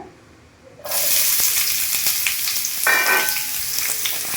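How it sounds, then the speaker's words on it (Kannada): Chopped onions hit a hot pan of oil for a simple mutton fry, bursting into a loud, steady sizzle after a brief quiet start, with a swell of crackling partway through and no voices. "ಈಗ ಎರಡು ಈರುಳ್ಳಿ ಕಟ್ ಮಾಡಿ ಇಟ್ಕೊಂಡಿದ್ನಲ್ಲ ಇದ್ರಾಗ ಹಾಕ್ತಾಯಿದ್ದೀನಿ"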